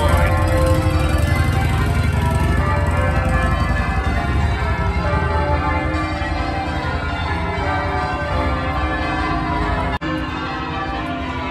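Church bells ring continuously through a town street in Shrewsbury, England, a dense, loud wash of overlapping peals with a brief dip near the end and no talking.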